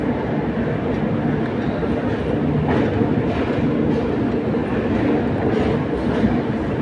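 A train rumbles at KSR Bengaluru City railway junction, a large Indian station, with a continuous loud low roar and faint rhythmic rail noise, as if heard from on board or close by.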